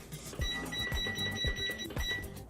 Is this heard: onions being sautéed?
no